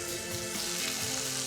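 Raw broccoli tossed into a hot pan with chicken and crispy garlic, frying with a steady, close, loud sizzle and faint stirring clatter, no voices.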